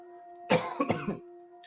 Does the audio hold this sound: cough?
yes